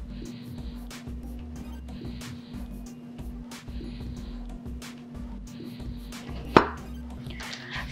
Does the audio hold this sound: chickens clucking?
no